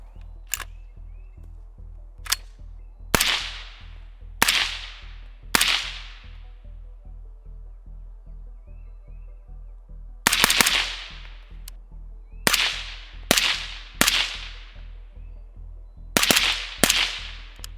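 Suppressed 5.56 carbine shots from 11.5-inch hosts fitted with Ventum 556 and Dillon DRC556 silencers ring out as sharp, clean cracks, fired in two separate strings of spaced single shots with no talking.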